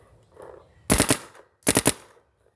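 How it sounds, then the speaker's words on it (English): Dye DAM paintball marker fired in 3-round burst mode at a tire outdoors: two sharp, loud bursts of three rapid pops each, close by, with a short pause between them and no talking. "So we're gonna switch firing modes to 3-round burst."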